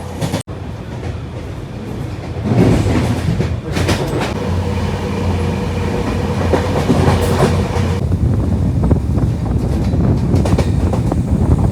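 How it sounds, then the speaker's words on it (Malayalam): Steady rumble and rattle of a moving train heard from inside the carriage, near Palakkad, India, with rhythmic clatter from the wheels and a brief knock near the start. "ട്രെയിനിൻ്റെ ഉള്ളിലാണ്."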